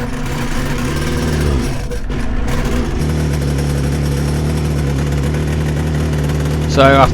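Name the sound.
vintage race motorcycle engine starting after a push start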